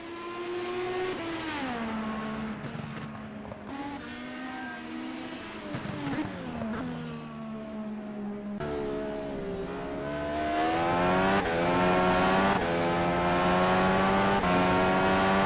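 An IndyCar in a racing sim at Mid-Ohio, engine revving and shifting with rising and falling pitch as it spins, then accelerating away, fairly faint.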